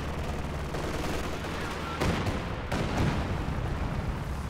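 An artillery barrage in Company of Heroes 2, a World War II strategy game, lands as a dense rumble of gunfire with two heavy blasts close together near the end.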